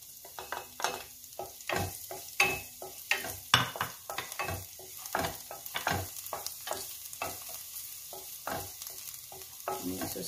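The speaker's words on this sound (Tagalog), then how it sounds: "At ilalagay na natin ang ating bawang." Garlic frying in hot oil in a pan for spring rolls with malunggay crackles and sizzles up close, while frequent quick stirring scrapes and taps keep an irregular rhythm throughout.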